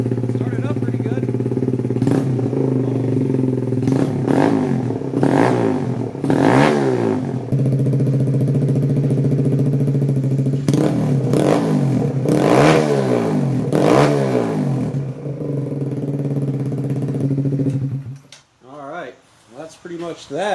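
A Kawasaki Z125 PRO fitted with a Dynojet Power Commander 5 revs repeatedly, its engine rising in sharp bursts over a steady idle before cutting off near the end, with some clatter.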